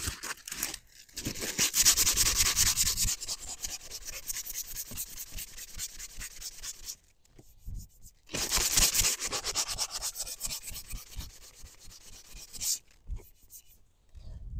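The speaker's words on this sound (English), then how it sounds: "I sanded it off on the belt sander" A black locust recurve bow being sanded on a belt sander, with close, loud abrasive rasping in long continuous passes broken by two short pauses.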